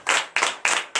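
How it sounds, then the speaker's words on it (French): A church congregation at morning prayer claps together in acclamation, four sharp, evenly spaced unison claps, close and clear. "Et tu as donné de l'acclamation."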